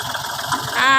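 A Kubota L3608 tractor engine, registered in 2010, idles with a steady low chugging, rising into a louder, higher whine near the end.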